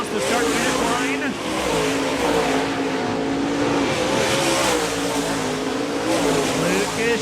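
USMTS modified race cars roar around the Park Jefferson Speedway dirt oval, their engines loud and continuous with shifting revs as a race announcer talks over the action.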